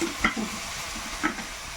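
Whole garam masala spices fry in hot oil for a country chicken curry, a soft continuous sizzle with a couple of brief stirring scrapes, close and fairly quiet, without talk.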